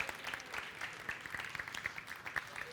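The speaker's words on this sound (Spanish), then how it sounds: "Un aplauso para Rubén por el esfuerzo que ha hecho" A small audience applauds chef Rubén at a rice-cooking class during a Mediterranean gastronomy event, a soft, dense patter of clapping heard at a distance for a few seconds.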